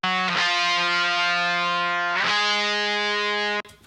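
Electric guitar lead tone through a Darkglass Alpha Omega 900 preamp without amp-sim processing, with sustained distorted notes ringing loud and close, changing pitch twice before cutting off.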